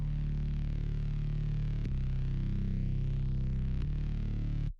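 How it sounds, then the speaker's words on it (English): A sustained synthesizer bass drone in FL Studio with rich low harmonics and a distorted edge, playing steadily alone with two brief re-triggered notes before cutting off. "So underneath I have a bass sound which also comes from the same pack."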